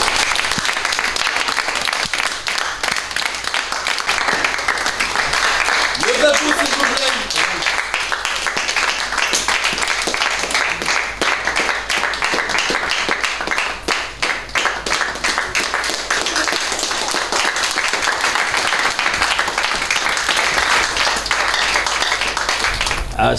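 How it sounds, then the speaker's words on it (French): A hall audience applauds the mayor's entrance at a school ceremony, dense sustained clapping for over twenty seconds with a brief voice briefly audible partway through. "Tous ensemble, toujours sous vos applaudissements, assistez à l'entrée de Monsieur le maire"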